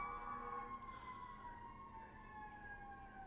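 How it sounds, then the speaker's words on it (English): Wailing sirens rise and fall in the distance, several overlapping tones sliding in pitch over a low traffic rumble. "A lot of sirens going on right now."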